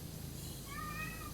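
A cat meows in the cleaning game PowerWash Simulator, one drawn-out, wavering meow that rises clearly over a steady background hum after a short quiet start, with no voices.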